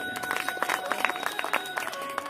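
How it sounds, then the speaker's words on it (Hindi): Applause from an audience at a Hindi religious storytelling gathering, a dense patter of many hands clapping at moderate volume with steady tone lines from background music underneath, lasting the whole moment. "एक बार जोरदार तालियां।"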